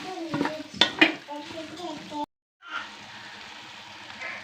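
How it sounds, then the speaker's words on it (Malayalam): Tomatoes being stirred and frying in a pan for Thalassery dum biryani, with scraping utensil strokes and clatter over a soft steady sizzle, a brief silent gap, then continuous close frying hiss. "നമ്മളെ തക്കാളി ഇതിലേക്ക് തട്ടി തക്കാളി നല്ലോണം ഒന്ന് വാടിയിട്ട് വരട്ടെ"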